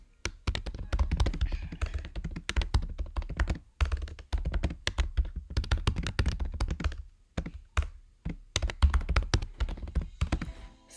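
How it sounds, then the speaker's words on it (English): Keys clatter on a computer keyboard in quick, uneven bursts of close, soft tapping, with brief pauses between runs of typing. "I'm typing this in."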